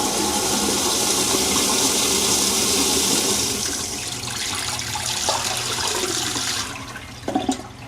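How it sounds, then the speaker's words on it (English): A manual flush on a smart toilet in a bathroom: a loud, close rush of water that fades into a refilling trickle, followed by a few small clunks near the end. "So there's your manual flush."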